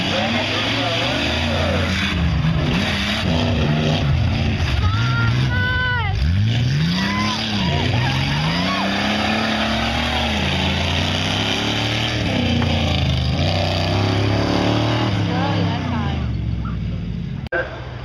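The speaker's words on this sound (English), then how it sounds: "Four-wheel drive tough trucks." Four-wheel drive tough trucks race in a 2012 event, engines roaring and revving through rising and falling pitch sweeps as they pass, with an announcer talking continuously over the racket.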